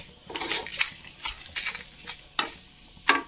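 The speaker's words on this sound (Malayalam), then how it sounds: "ഒരു ടേബിൾ സ്പൂൺ മല്ലി കൊടുത്തിട്ടുണ്ട് അതിട്ട് കൊടുക്കാം നന്നായി വറുത്തെടുക്കാം" Whole red chillies and coriander seeds are dry roasted and stirred in a pan, giving a series of sharp, uneven scraping and rattling bursts close by, with brief quiet gaps between strokes and no talking.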